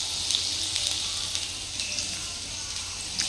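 Tomatoes frying in hot oil in a pan for tomato chutney, a steady close sizzle with faint crackles and small pops throughout, no voices.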